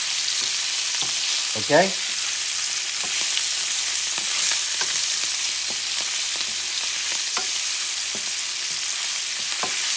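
Scallops browning in a hot pan give a constant close sizzle broken by sporadic clicks and light utensil taps; a voice briefly says a word.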